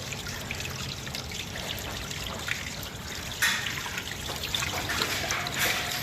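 A buffalo drinking water: steady trickling and splashing with soft lapping close by, continuous throughout with a slight rise in the second half.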